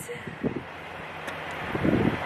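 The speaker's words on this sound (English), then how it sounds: "It's really windy out here" Wind buffets the microphone in low, rumbling gusts, growing stronger toward the end, with faint voices underneath.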